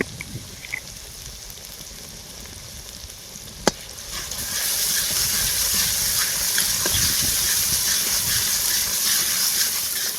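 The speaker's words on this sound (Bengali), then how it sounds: "পেঁয়াজগুলো ভাজা হয়ে গেছে এর মধ্যে এবার আদা রসুন পেস্ট দিয়ে দেবো" Onions frying in a pan with ginger-garlic paste added, for a prawn malai curry. A quiet stretch with one sharp clink gives way to loud, steady sizzling that holds to the end, with no talk.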